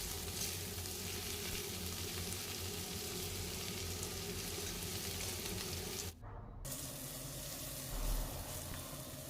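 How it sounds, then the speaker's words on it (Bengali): Potato, beans and pumpkin fry in a pan with a steady, close sizzle and crackle, briefly dropping out once before the hiss resumes. "শিম আর কুমড়ো দিয়ে সবজিগুলোকে আমি হালকা করে ভেজে নিচ্ছি"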